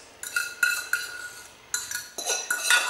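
Frozen tater tots tumble into a cast iron skillet in a few quick bursts, knocking and clattering against the metal at close range, with no talk.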